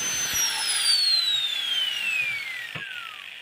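Continuous abrasive rubbing of a knife blade with sandpaper, a steady high scraping hiss with a long smoothly falling whine, close and sustained, with no talking.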